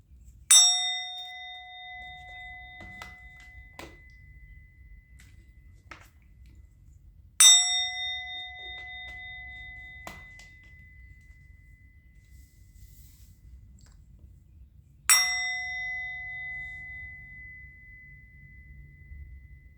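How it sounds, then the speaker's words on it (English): A metal bell is struck three times at slow, even intervals about seven seconds apart. Each clear, bright ring fades out gradually over a faint low hum. "I'm going to ring the bell."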